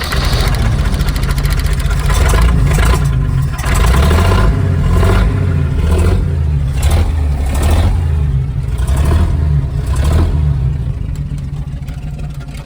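A loud, rough 1969 Chevrolet C30 truck engine idles and revs with its exhaust cut off, an open, unmuffled roar, low and rumbling throughout, swelling in a few surges.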